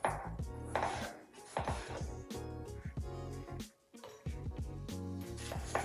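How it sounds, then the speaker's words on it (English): A knife finely dicing a quarter of an onion on a cutting board for homemade salsa, a rapid run of crisp, close chopping taps with a brief pause near the middle before the chopping resumes. "I'm just going to use a quarter of an onion. And we'll go ahead and get that diced up."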